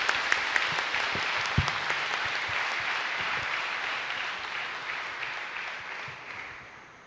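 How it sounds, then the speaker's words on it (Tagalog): Sustained applause from a crowd at a priest's ordination ceremony, many hands clapping steadily with a few sharper claps standing out, gradually fading toward the end. "pasalubungan tayo pong masikan a palakpak"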